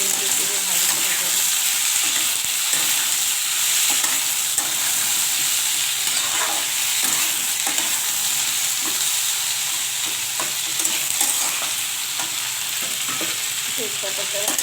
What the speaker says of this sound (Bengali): ভালো করে নেড়ে চেড়ে ভালো করে দেবো।